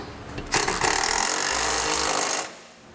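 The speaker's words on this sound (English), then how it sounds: "Next, we can tighten up our hardware. We'll be using a 17 millimeter on these back two." A power tool with a 17 mm socket tightens trailer hitch bolts on a 2008 Infiniti EX35, one loud close burst of ratcheting, buzzing rattle lasting about two seconds.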